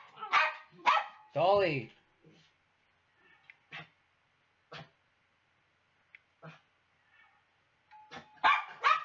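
A dog barks several times in short bursts, loud and near at the start and end, with quieter single yips between; a person calls out over the barking.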